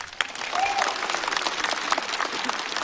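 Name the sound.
audience applause for a stand-up comedian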